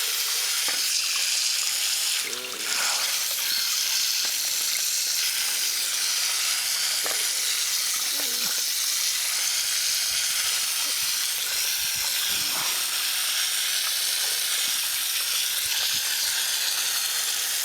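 Water flushing dirt out of a tractor condenser, a steady loud hissing spray with splashing that runs continuously throughout, with a few faint knocks underneath.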